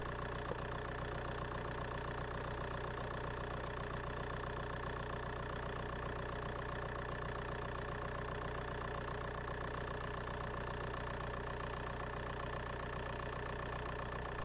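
A Skoda Fabia Mk1 with a 1.9 PD diesel engine idles steadily with a close, even clatter and low drone that holds constant throughout, without any rise in revs.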